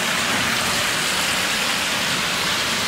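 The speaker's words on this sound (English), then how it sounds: "It's a little waterfall." Steady rush of water spilling down a small waterfall inside a sewer, a dense, even splashing roar that stays loud and close the whole time, with no voices.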